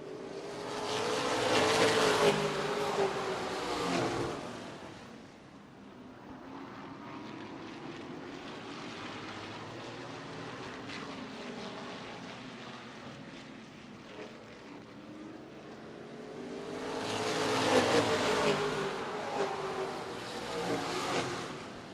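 Late model race cars at Redwood Acres Raceway roar past out of turn four, with a loud engine surge at the start, a distant drone in the middle, and a second loud pass near the end.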